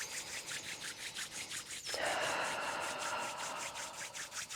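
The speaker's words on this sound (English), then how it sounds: "rub them together, get a warm friction between them" Palms rub together quickly for warming friction during a yoga routine, giving a soft rhythmic brushing that turns into a brisker, steadier rasp partway through.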